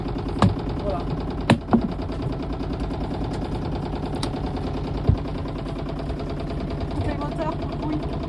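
A boat engine idles steadily beneath the whole stretch, a continuous low throbbing hum with a few sharp knocks and clatters on top, heard close and moderately loud with no clear speech.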